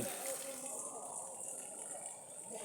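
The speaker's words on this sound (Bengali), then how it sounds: "পানি দেওয়া হচ্ছে সাবমার্সিবল থেকে।" Water gushes steadily from a submersible pump onto drought-stressed malta orange trees, a continuous rushing flow with a faint background hum.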